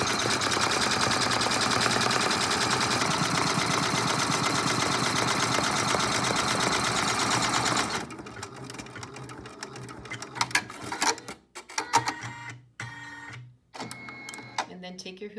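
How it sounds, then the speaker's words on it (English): An embroidery machine triple-stitches around a felt applique in the hoop, a loud, fast, steady mechanical rattle lasting about eight seconds, then stopping, followed by quieter clicks and handling noises. "go back to your machine. That you'd like to use to triple stitch around this applique, stitch out the next step on your stitch map"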